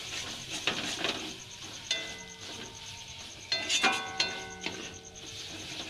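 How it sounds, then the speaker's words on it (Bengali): Curry spices sautéing in a pan over low gas give a soft, steady sizzle, broken by several clinks and scrapes of a spoon stirring against the metal; no one speaks. "এই যে আমি গ্যাস কমিয়ে অনেকক্ষণ ধরে কষছি।"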